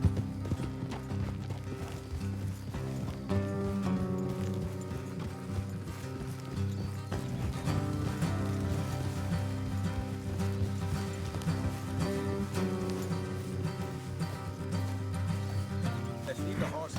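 Horses gallop along a road in Red Dead Redemption 2, steady rhythmic clip-clop of hooves running continuously under a game music score, with occasional snorts and riders talking.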